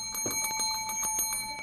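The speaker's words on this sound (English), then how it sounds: "the bell is kind of annoying" A bell rings rapidly in a series of bright metallic strikes, about a dozen evenly spaced hits with sustained ringing tones, close and fairly loud, with no speech.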